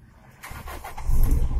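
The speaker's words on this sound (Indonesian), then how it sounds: "Oh, dengar suara mesinnya kan, halus, standar ya." A 1995 Toyota Kijang Super with a 1.8 litre engine cranks and catches, its starter whir rising into a steady, smooth idle that grows louder toward the end, heard up close with no talking.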